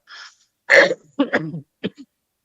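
A few short, rough coughs and throat-clearing bursts close by, separated by brief pauses, with no talking.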